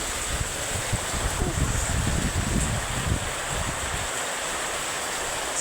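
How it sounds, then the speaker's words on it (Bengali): Heavy rain driven by strong gusting wind lashes down in a steady broadband roar, with surges of rumbling gusts that fade toward the end. "ধুম বৃষ্টি নেমেছে, সাথে আবার প্রচণ্ড বেগে বাতাসও আছে"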